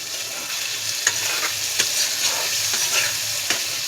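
Fish curry spices stirred in a hot pan, a steady bright sizzle running throughout with several sharp scraping strokes of the spoon spaced about half a second apart, close and fairly loud with no talking.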